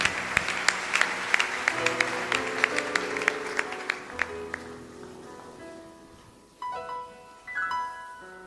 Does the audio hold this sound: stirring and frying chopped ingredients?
no